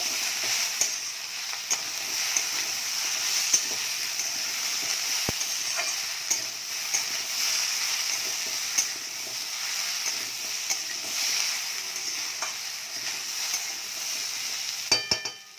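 Potatoes and okra fry in a pan with a steady, close sizzling hiss, punctuated by occasional light clicks of a utensil against the pan; no voices.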